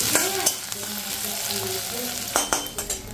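Onions frying in a pan give a continuous sizzle, with a few spatula scrapes and clinks near the end, heard up close and without speech.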